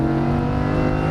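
A Lamborghini Huracan race car at full throttle, its engine holding a loud, steady high-revving drone with strong harmonic tones, close and uninterrupted.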